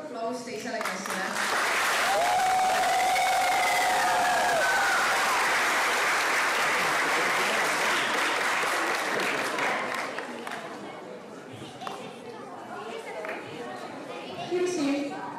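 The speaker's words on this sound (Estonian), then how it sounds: "Veel üks suur aplaus teisele klassile." A school audience at a playback show applauding a class, a loud sustained wave of clapping that swells, then fades into crowd chatter with voices over it.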